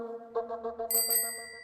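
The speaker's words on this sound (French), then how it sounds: "On vend bien sûr les sonnettes." A bicycle bell rings in a quick flurry of light dings, followed by one bright, clear ring that lingers and fades.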